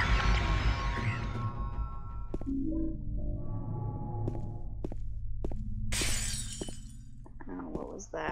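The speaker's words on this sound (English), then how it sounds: "Glass breaking." Glass shatters inside a hospital in the Silent Hill 2 video game, a sharp breaking crash set against a dark, droning ambient soundscape, with sonar-like tones and a few later clinks and bursts.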